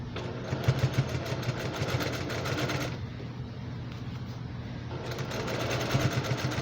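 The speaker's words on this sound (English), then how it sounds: "I would sew them in the upright position." A sewing machine stitches a quilted basket, running steadily with a fast mechanical whir, pausing briefly midway and then resuming at close range.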